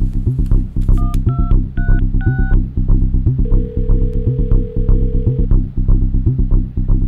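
A short run of telephone keypad dialing tones beeps one after another during a phone call scene in a Tamil film, followed by a long steady call tone, all over a heavy low throbbing background score.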